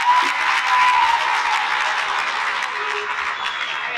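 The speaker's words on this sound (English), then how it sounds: "Round of applause." Steady applause from a crowd, many hands clapping continuously at an even level throughout, with no voices standing out.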